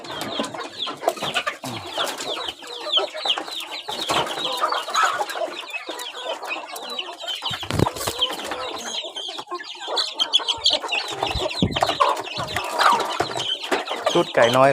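A flock of hens and chicks of a Burmese fighting-cock breed clucks and peeps continuously at evening feeding, close and lively, with a few sharper calls and some faint background voices.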